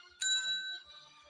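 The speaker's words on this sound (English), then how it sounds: "Well, this bell's only made of metal, EJ." Single ding of a small metal desk bell, a bright ringing strike that fades out slowly, heard clearly against quiet background.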